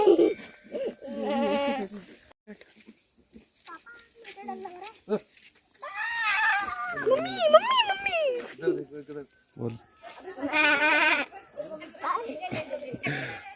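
A man imitates a goat's bleat with a wavering, nasal call inside the Patal Bhuvaneshwar cave in Pithoragarh, while other people and children talk and laugh around him.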